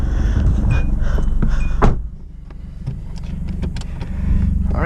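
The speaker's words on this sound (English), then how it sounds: "Now we're going to take it for a test drive." Interior of a 2002 Hyundai Elantra as a test drive begins, with an idling engine hum, a sharp thunk, and brief mechanical clicks and rattles before the engine note swells again.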